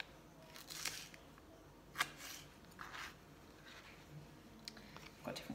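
A knife slices through onion into julienne strips on a board, a few faint, scattered crisp cuts and soft taps, quiet and close, with no speech.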